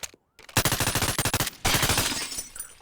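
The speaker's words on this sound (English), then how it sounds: "you can shoot the window that many times, but the bullets go through anyways" Rapid gunshots fired at a casino window in the video game Bonelab, a brief silence then loud, tightly spaced bursts of automatic fire, a short pause, and another burst.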